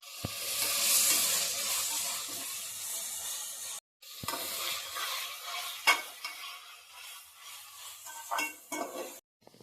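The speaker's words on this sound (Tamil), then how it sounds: "புதினா, கொத்தமல்லி, பச்சை மிளகாய் இதெல்லாம் போட்டு வதக்கலாம்." Mint, coriander and green chillies being sautéed for a mutton dish: a steady sizzle in the pan with a spoon scraping and clinking against the metal, broken by a short silence midway.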